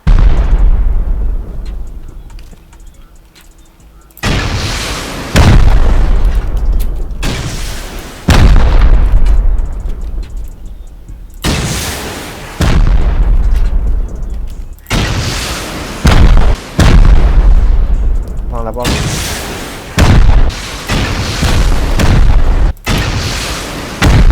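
Loud explosions tear into a turret-guarded house in the game Rust: a string of heavy, close booming blasts, roughly seven, each hitting hard and rumbling off, with short gaps between.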